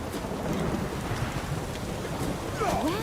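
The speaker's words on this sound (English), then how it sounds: "might be a good idea there in this torrential rain" Torrential rain pours down in The Witcher 3 video game, a dense, loud, continuous hiss of downpour with a low rumble beneath and a brief voice-like sound near the end.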